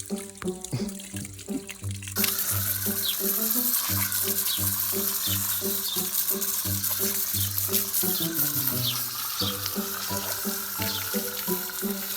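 Water gushing steadily from a tap in a village yard, a loud continuous splashing that starts abruptly and runs on alone over background music.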